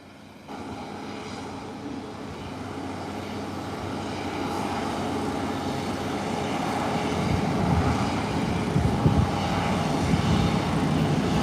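An Embraer 120 turboprop operated by Sunrise Airways, arriving from Cap-Haïtien, Haiti, drones steadily at a distance, its engine roar building gradually louder across the clip with no voices present.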